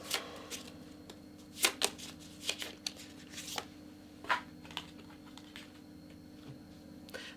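Tarot cards are shuffled by hand in a quiet room, giving irregular bursts of crisp riffling and soft slaps spread over several seconds.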